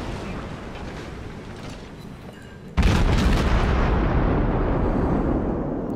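Heavy naval guns of a Des Moines tier X cruiser boom in World of Warships, a sudden loud blast midway turning into a dense, sustained roar of firing after a quieter rumbling stretch.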